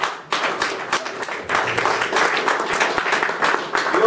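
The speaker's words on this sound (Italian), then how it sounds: "un applauso" An audience at a political gathering in Olbia claps steadily throughout, a dense, continuous round of applause heard close and loud, with a few louder individual claps.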